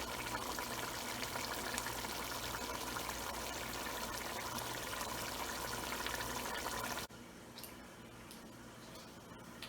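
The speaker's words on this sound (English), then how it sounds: "I'm gonna let it boil and let all the water dry out." Corn beef and rice boil in a pot on the stove, giving a steady, close bubbling and hissing wash that runs evenly, then drops abruptly to a quieter simmer near the end, with no talking.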